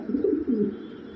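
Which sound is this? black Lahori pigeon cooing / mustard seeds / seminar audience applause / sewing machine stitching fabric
black Lahori pigeon cooing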